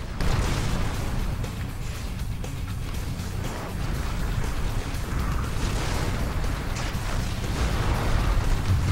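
A battle mech fights tanks in the Xbox game MechAssault: a dense, continuous wall of loud combat rumble, blasts and mechanical clanking with no pauses.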